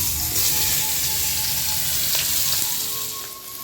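Bay leaf, dried chilli and chopped onion sizzle in hot oil for a cucumber and rohu fish-head ghonto. A continuous, close crackling fry fades slightly toward the end.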